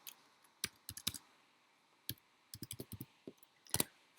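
A formula being typed into Excel on a computer keyboard, with soft clicking keystrokes close by, first scattered singly, then in short quick runs separated by pauses, and no voices.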